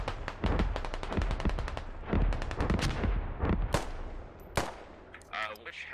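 Sniper and rifle shots in the military shooter game Squad, a rapid run of sharp cracks followed by a few louder, separate reports, with speech mixed in.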